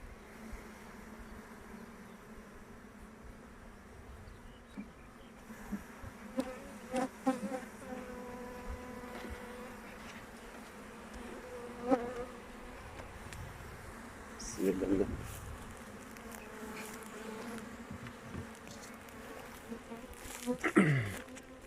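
Steady buzzing of many honeybees swirling close around an opened hive during inspection, with a few louder passes and faint background voices.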